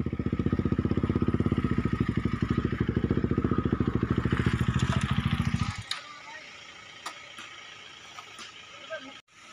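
A KTM 390 motorcycle idles with a loud, steady, rapid thumping beat, then the engine cuts off, followed by a few faint clunks and rattles as it is set on its stand.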